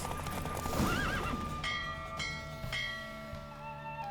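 A horse in a Witcher 3 video game race gives a loud, wavering whinny over a quick clip-clop of hooves, with a ringing bell-like chime repeating in the background.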